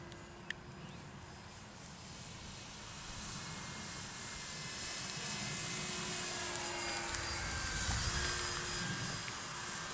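An Eflite Air Tractor RC model airplane flies overhead, its electric motor a steady whine that swells slightly as the plane comes nearer, over outdoor breeze with no talk.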